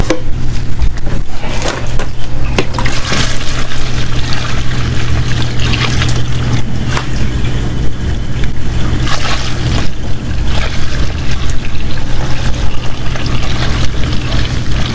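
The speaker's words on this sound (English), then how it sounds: "We are pumping the fuel back into the tank" A pump steadily returns diesel fuel into a tank, a continuous close mechanical drone with liquid pouring and trickling over it, running without pause throughout.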